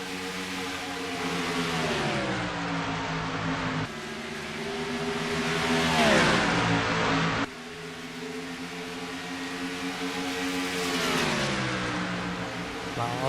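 Stock car engines race around Dover in a NASCAR video game, loud and near, with the pitch sweeping up and down as cars accelerate and pass. The roar breaks at a few abrupt cuts and carries on steadily with no pauses.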